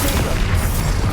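Bombarda explosion spell in the Hogwarts Legacy video game, a short loud rumbling boom with dense low-end thud that fills the brief moment.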